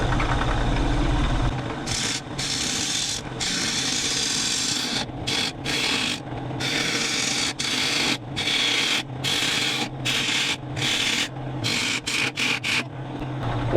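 A wood lathe turns a workpiece held between centers, giving a steady hum under repeated scraping and rasping bursts as a tool cuts the spinning wood, close and fairly loud.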